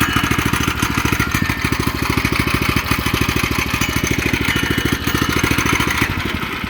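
Woodland Mills HM122 sawmill engine running steadily at a fast, even idle, close and loud, with a constant rapid chugging throughout and no talk.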